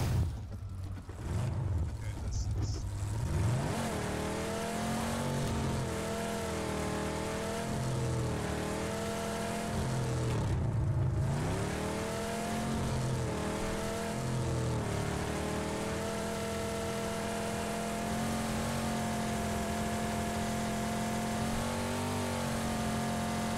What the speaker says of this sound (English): The car is freaking so loud.